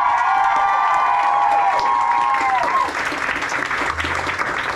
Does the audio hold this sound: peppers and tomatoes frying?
no